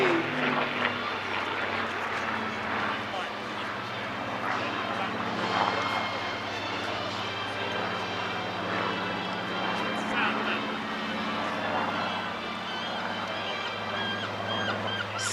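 A Supermarine Spitfire fighter drones steadily at an airshow, its engine a sustained low rumble running through the whole stretch under a commentator's voice and crowd murmur.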